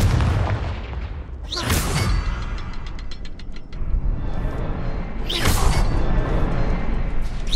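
A Confringo fire spell blast in Hogwarts Legacy: two sharp whooshing booms a few seconds apart, with a rapid metallic clatter of mechanisms between them, loud and close.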